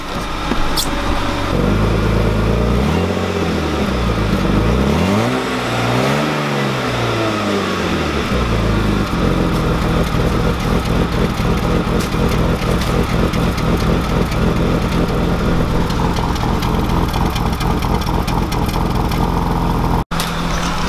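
A BMW E30 325i engine runs loud and close, revving up and down a few times in surges, then settling into a rough, steady idle.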